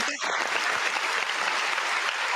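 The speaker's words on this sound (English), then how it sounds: "clap us out of here" A comedy show audience breaks into loud, sustained applause, dense clapping that fills the room for a couple of seconds after a brief voice at the start.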